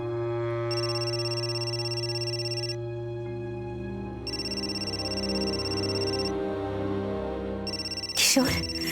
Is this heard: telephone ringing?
yes